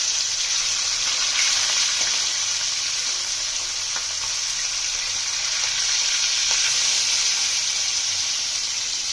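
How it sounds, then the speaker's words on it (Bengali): Pieces of vetki fish fry in hot oil, giving a loud, dense, continuous sizzle with occasional soft crackles, close up and alone. "আমরা কড়া করে মাছগুলো ভেজে নিয়েছি"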